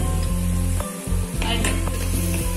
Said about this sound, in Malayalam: അതിലേക്ക് ഈ ചതച്ച് വെച്ചിരിക്കുന്ന ഉള്ളിയും ജിഞ്ചർ ഗാർലിക് പേസ്റ്റും വെളുത്തുള്ളി പേസ്റ്റും എല്ലാം കൂടെ ഇട്ട് നന്നായിട്ട് വഴറ്റിയെടുക്കും